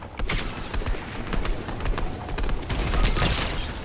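Rapid bursts of gunfire crackle through a Fortnite Battle Royale match, dense overlapping shots repeating loudly and steadily across the whole span.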